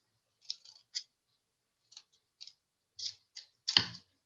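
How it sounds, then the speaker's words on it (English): Scissors snipping thin paper flaps for a craft, a series of crisp, close, quiet clicks and snips in irregular bursts, ending with a slightly louder cut, with no talking. "we will just simply cut thin flaps"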